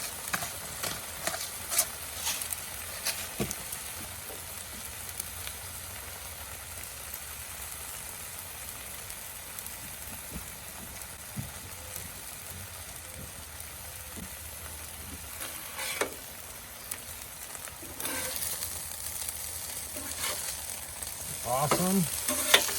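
Jalapenos roast in a hot pan with a soft, continuous sizzle and occasional light clicks and scrapes of a utensil, quiet and fairly steady throughout.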